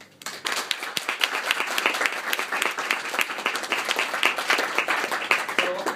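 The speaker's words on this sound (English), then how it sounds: "help me give Aina a big hand and applause for all the works you put in" An audience claps for an artist at an art talk, sustained clapping that swells quickly and holds steady with sharp individual claps, near and fairly loud.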